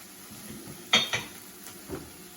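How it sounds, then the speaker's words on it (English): A spoon stirs cubed cream cheese into a pan for brunch, giving two close metallic clinks followed by a softer scrape against a quiet background. "we're just gonna stir this in until all the cheese is melted"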